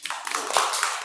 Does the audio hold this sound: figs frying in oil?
no